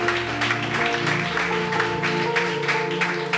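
Applause rises from a church congregation during a Sunday school service, a steady dense wash of clapping with sustained music or organ tones underneath throughout.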